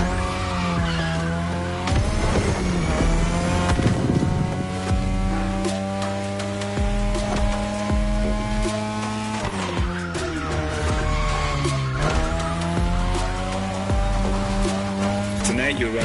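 A 3rd-gen 2002 Mazda RX-7 with a rotary engine drifts in The Crew Motorfest, its engine droning and shifting pitch under squealing, skidding tires while a narrator talks over it.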